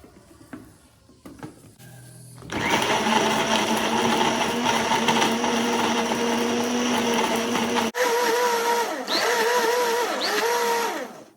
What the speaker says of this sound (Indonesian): Sekarang kita blender